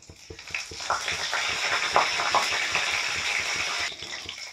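Cumin seeds and curry leaves sizzle and crackle in hot oil in a pan, a steady frying hiss with sharp pops and spatters close by.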